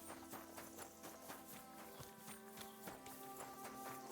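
Horse hooves in the medieval video game Kingdom Come: Deliverance 2 clop in a steady, quick rhythm, moderately close, over a continuous low background of game ambience and music, with no speech.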